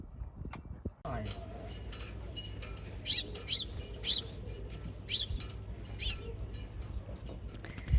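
Small birds, sparrows, chirp in short repeated bursts over a steady low hum at a marina, fairly clear against the background.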